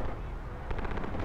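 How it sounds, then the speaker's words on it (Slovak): Gunfire in the open-world action game Just Cause 3 forms a dense, loud wash of rapid automatic shots and blasts, with a quicker rattle of bursts in the second half. "Počkaj, ty sa stále strieľajú,"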